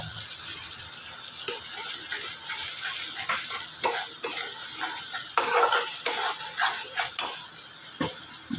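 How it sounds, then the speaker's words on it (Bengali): Spoon stirring spices with Kashmiri red chili powder in a hot pan: a soft sizzle under repeated scraping and clinking strokes, close by, with no talk. "এখন আমি এটাকে খুব ভালোভাবে একটু নাড়াচাড়া করে নেব এর মধ্যে দিয়ে দেবো কাশ্মীরি রেড চিলি পাউডারটা"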